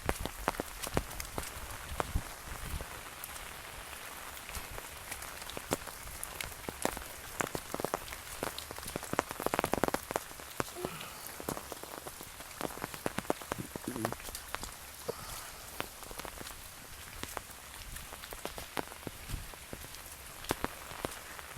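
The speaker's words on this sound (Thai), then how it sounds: "พาพี่น้องมาเบิ่งฝนนะพี่น้องเบิ่งฝนมื้อนี้ฝนตกเนี่ย" Steady monsoon-season rain pours down, hissing broadly with scattered sharp drops striking nearby surfaces, continuous throughout with no voices.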